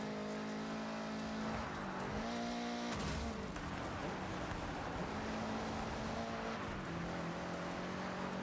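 A car in Forza Horizon 6 accelerating hard at full throttle, the engine tone rising through the gears with brief shift dips and a sharp break midway, heard faintly and evenly with no talking.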